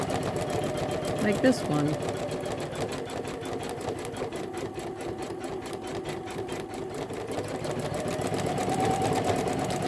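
A Janome Memory Craft 10001 embroidery machine runs steadily, its fast rhythmic needle clatter and motor hum continuing nearby while a person talks over it.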